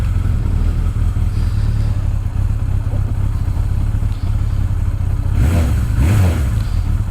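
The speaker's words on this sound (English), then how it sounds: "So this is just going to be a short shakedown run, just going around the block and getting comfortable with the bike." A 1983 Suzuki GS1100E motorcycle engine runs loud and steady on a short shakedown ride around the block, with a constant low rumble and wind, and a couple of brief revs near the end.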